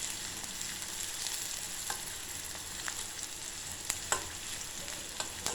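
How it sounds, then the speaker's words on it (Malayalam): Small shallots frying in a pan of oil for a Kerala chickpea curry, a steady crackling sizzle with a few sharper pops and stirring scrapes, close and moderately quiet, with no voices. "നമ്മുടെ ചെറിയുള്ളി നന്നായിട്ടൊന്ന് മൂപ്പിച്ചെടുക്കാം."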